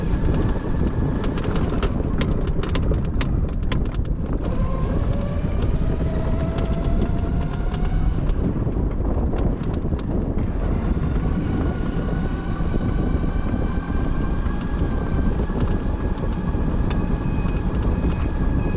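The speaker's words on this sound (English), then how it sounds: "Really windy all of a sudden." Strong wind buffets the microphone during a Citroën C5 ride, a continuous loud roar and rumble across the whole stretch, with no talking.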